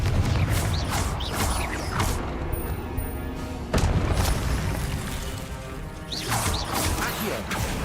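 In the video game Hogwarts Legacy, the Confringo spell lands with loud mechanical booms and crashing impacts. Three heavy bursts arrive in quick succession over a constant rumbling game backdrop, with no speech.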